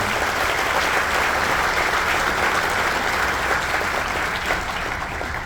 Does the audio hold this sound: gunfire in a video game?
no